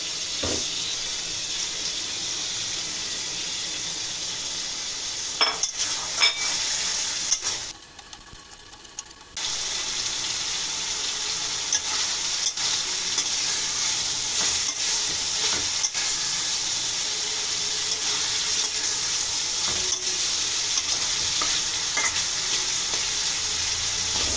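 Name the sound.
stir-frying whole spices for beef keema biryani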